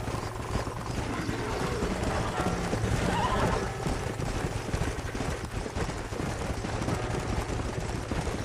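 Horses in the Red Dead Redemption game whinny loudly and clip-clop steadily on the ground, the neighs rising clearly above a continuous busy background of hooves and faint voices.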